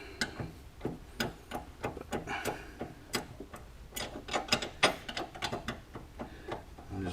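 Metal landing gear strut bolt on a Stinson aircraft being worked loose by hand, giving a dense run of small irregular clicks, taps and scrapes close by, with no talk.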